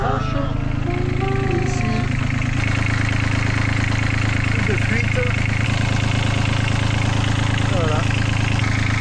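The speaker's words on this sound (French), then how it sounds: "On vient de démarrer le moteur, dehors ça crache." Engine running steadily just after being started, a constant close idle throbbing throughout while someone speaks briefly over it, set outdoors in Kourou, French Guiana.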